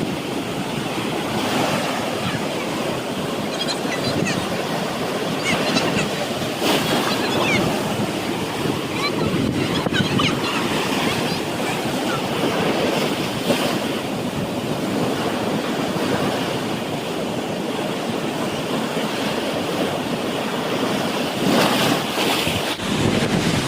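Sea waves roll and break continuously at Old Digha beach, a loud, steady surf wash mixed with wind buffeting the microphone, with no pause throughout.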